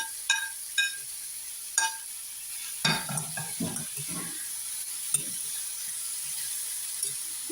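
Chopped vegetables and capsicum stirred and sautéed in a pan, with a few sharp clinks of a utensil against metal, then shuffling scrapes over a soft steady sizzle, close and moderate in level.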